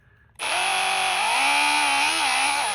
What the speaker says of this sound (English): take your countersink drill bit